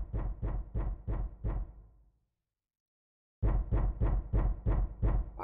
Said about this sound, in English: What is up with this knocking?